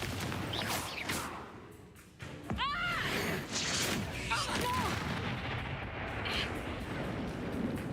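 Confringo fire spell explosions in the Hogwarts Legacy video game, several booming blasts with swooping whooshes and crackling debris amid continuous combat noise, with speech mixed in.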